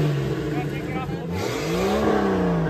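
A Jeep engine revving with its muffler removed, a rough rising and falling drone that swells in pitch across a short burst, with people talking over it.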